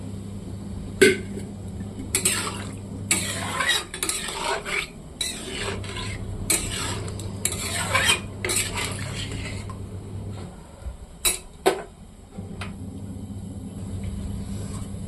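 Spoon stirring water into a cauliflower, tomato and potato curry in a pan, with repeated close scraping and clinking strokes over a steady low hum.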